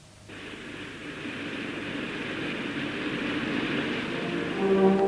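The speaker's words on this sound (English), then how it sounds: "A hospital train for Cairo went out half empty." A hospital train bound for Cairo pulls out during the 1956 Suez Crisis in Egypt, its steady rolling rumble building gradually over several seconds, with a faint high whistle-like tone near the end.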